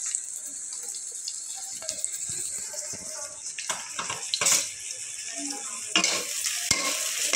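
Whole cumin seeds and spices frying in a pan for a beef and potato ghati while being stirred, a steady sizzle with scraping strokes and occasional clinks, close and continuous with no talk.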